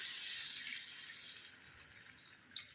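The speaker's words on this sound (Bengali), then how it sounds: "এবার দিয়ে দেবো হচ্ছে এই যে মিক্সির বাটি ধোয়া জল।" Water used to rinse a mixer-grinder bowl poured into a pan of cooking masala for curry, a steady soft splashing pour that gradually eases off, faint and close, with a small clink at the end.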